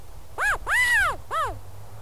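California quail giving its distinctive call from dense bush cover, three loud, clear, arching calls with a longer middle note, close by and alone, with no talking.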